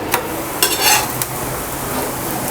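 Ragi adai cooking in a hot pan gives a steady, soft sizzle, with a few brief bright scraping and clattering touches as the flatbread is lifted and turned over.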